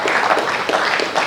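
An auditorium audience applauds a lecturer after a talk on the French origins of Pondicherry, producing continuous, fairly loud clapping throughout with faint crowd murmur.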